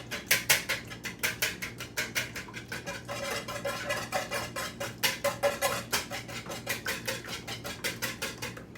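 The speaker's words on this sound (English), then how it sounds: "add roughly an equal amount of milk. So you got roughly 50-50 egg and milk. Mix it up good." Whisking a roughly equal mix of egg and milk into French toast batter in a bowl, a rapid, steady run of clicking, tapping strokes close by with no talking.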